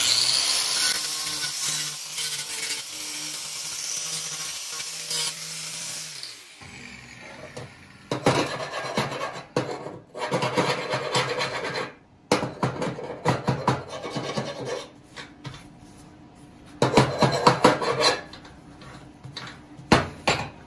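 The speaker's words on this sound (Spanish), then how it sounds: "Pasamos el merilar para limpiarlo." Angle grinder cleaning metal while building a sliding door, harsh loud bursts of grinding separated by short pauses, starting with a sustained stretch that cuts off and then comes back in several spurts.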